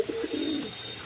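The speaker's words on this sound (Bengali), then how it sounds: "এই দেখো ভোলে ডাকছে" An old domestic pigeon gives a single short, close coo, heard alone and briefly.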